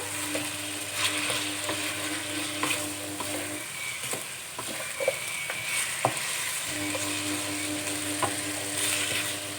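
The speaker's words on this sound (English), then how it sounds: "give it a good mix for the curry powder." Curry powder is stirred into chicken curry in a frying pan, giving a steady sizzle with scraping and rattling stirring strokes throughout and no voices.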